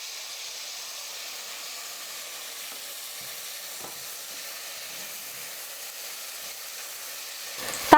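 Tomatoes and ginger garlic paste sauté in a pan for vegetable biryani, giving a steady, soft sizzling hiss throughout with a faint clatter near the end.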